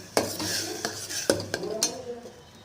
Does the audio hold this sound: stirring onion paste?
yes